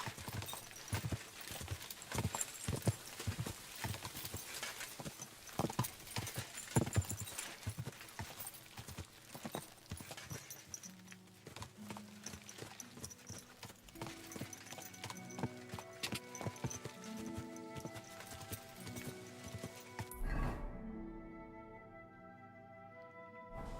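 A horse gallops in the video game Kingdom Come Deliverance II, steady rhythmic hoofbeats over a music score, the clip-clop thinning out before a brief swell and then near silence at the end.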